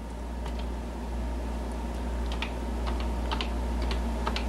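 Steady keystrokes on a Color Computer keyboard as commands are typed in, with irregular clicks clustered in short bursts over a constant low hum.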